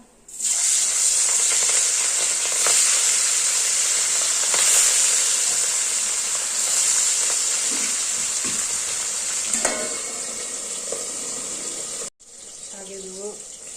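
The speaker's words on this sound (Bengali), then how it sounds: "মাছটা ভেজে নেবো" Hilsa fish frying in hot oil gives a loud, bright, steady sizzle that runs almost unbroken, with a few crackles and spatters, cutting off abruptly near the end before resuming more faintly.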